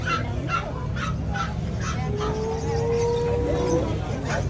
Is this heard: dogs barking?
yes